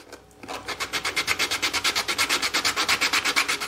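Bridge of a 1974 Gibson F5 mandolin being sanded, gold posts included, in quick, even back-and-forth strokes, a steady close rhythmic rasp of about six strokes per second after a brief quiet start.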